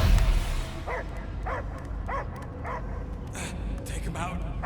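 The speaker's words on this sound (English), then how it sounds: "I hear only barking." A dog in the video game Guardians of the Galaxy barks in a run of short, evenly spaced yelps and whimpers, fairly close, with game ambience underneath.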